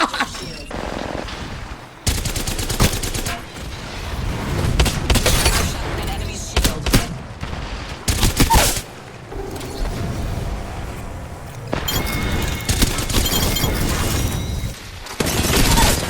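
First-person shooter video game gunfire crackles in bursts of automatic fire and sharp single shots, loud and close, with gaps between volleys while players talk over the action.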